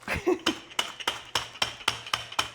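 Crackers sealed in a bag are pounded to crumbs in a home kitchen, about nine sharp, evenly spaced thumps in quick rhythm, close and fairly loud.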